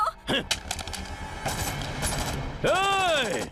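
Gunfire from a shootout scene in a Hindi-dubbed action film, with a man firing while spinning round in circles; rapid bursts of shots mixed with music and effects, ending in a loud swooping tonal sweep.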